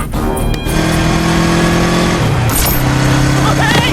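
A motorbike speeds toward a cliff edge in a Telugu fantasy drama, its engine holding a loud steady drone that dips and climbs in pitch, under excited talk.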